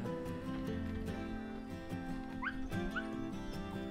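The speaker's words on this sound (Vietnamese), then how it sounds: "Con chó muốn đi nữa." A small dog on a high stairway up to an old pine hill whimpers and yips in short high whines over a steady droning background, near and moderately loud.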